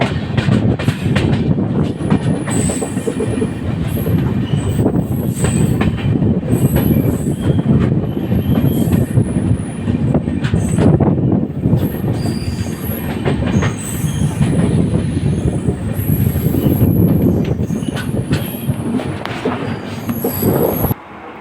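A train rolls past at close range in Andhra Pradesh, India, wheels squealing loudly and rails clattering continuously for the whole stretch, with no voices.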